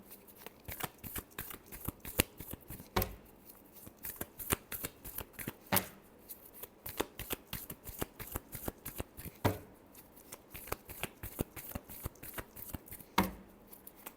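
Tarot cards are shuffled by hand in a long run of close, crisp riffling flutters and taps, with regular sharper slaps as the deck is squared, continuing steadily and fairly quietly without talk.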